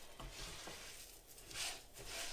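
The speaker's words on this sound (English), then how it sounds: "what we're going to do is saute the rice" Seasoned rice sautéing in a pan, tossed with salt, pepper, granulated garlic and onion powder, gives a soft steady sizzle with a few light scrapes and stirs, quiet and close, with no talking.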